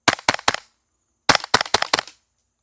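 A gas-powered airsoft gun fires two quick bursts of sharp shots, three cracks and then five, with a short pause between the groups and no talk.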